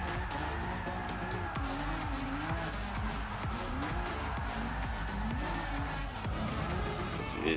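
A 900-horsepower Honda NSX race car drifts in Gran Turismo Sport, its engine droning steadily while the tires squeal in long, wavering screeches throughout, loud and close.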